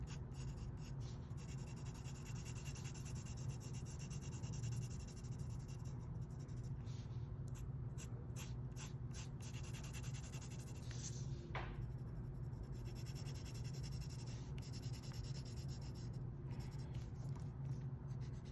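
Pencil shading on paper while filling in geometric shapes, a steady close scratchy rubbing of graphite that carries on for the whole stretch with no talk.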